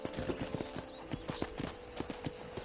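Horse hooves clip-clop in Red Dead Redemption, a steady walking rhythm of sharp, close hoof strikes repeating evenly throughout.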